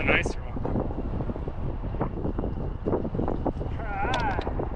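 Wind buffets the microphone on a fishing boat out on the water, a steady outdoor rush with brief splashes and a person talking over it.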